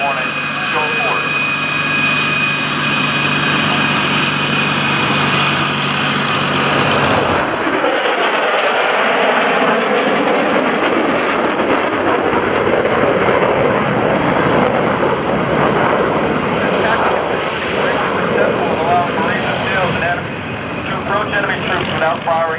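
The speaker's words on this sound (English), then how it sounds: "To your right, you can see a Hornet Super Hornet show of force." An F/A-18 Super Hornet makes a low, fast show-of-force pass at a naval airshow, a loud continuous jet roar that shifts sharply in tone midway as it sweeps by, with a voice audible amid the noise.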